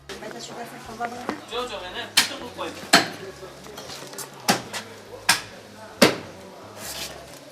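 A butcher chopping meat lands a series of sharp, loud cleaver thwacks at uneven intervals, roughly one every second, with voices talking in the background.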